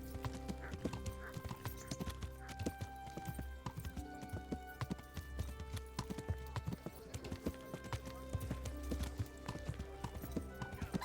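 Steady clip-clop of horse hooves at a brisk trot in the video game Kingdom Come: Deliverance, with an occasional whinny and a continuous low rumble underneath.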